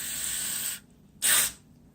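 Silicone spray hissing out of a can into acrylic pouring paint in two bursts, a long steady spray and then a short one, loud and close.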